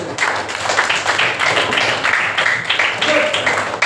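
Classroom applause for a student group, a dense patter of many hands clapping close by, mixed with children's voices throughout.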